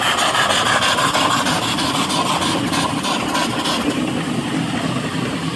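A steam donkey logging yarder engine runs steadily with its pet cocks closed, giving a loud, continuous mechanical chugging and hiss with no voices over it.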